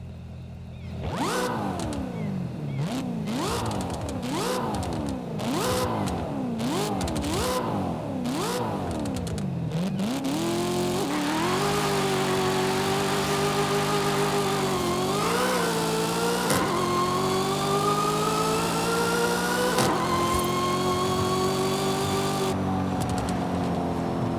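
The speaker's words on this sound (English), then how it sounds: "you have to listen to this car. This car sounds immaculate." A supercharged supercar engine in Forza Horizon 5 blips repeatedly with rapid rises and drops, then settles into a long sustained roar that climbs through gear shifts.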